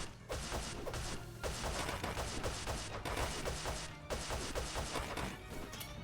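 A statue boss blowing apart in the video game ATO, heard as a dense, continuous barrage of loud crashing explosions in several long bursts separated by short breaks, with no voices.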